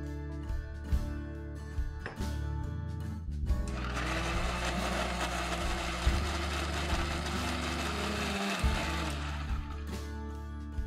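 A loud, harsh whir from a kitchen mixer blending soaked onion and cashew with a little water runs for several seconds, then stops, over a constant low hum.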